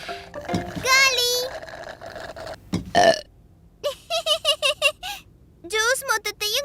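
A cartoon character burps after drinking juice in a Tamil children's cartoon. A series of loud, croaky burps comes in quick succession, mixed with squeaky childlike cartoon voices talking.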